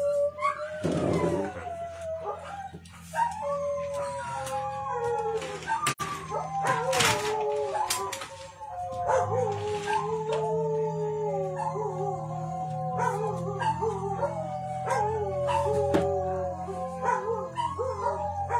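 Several dogs howl together in response to a gas delivery vehicle's jingle, in long, wavering, overlapping tones for a sustained stretch, broken now and then by sharper yips and barks.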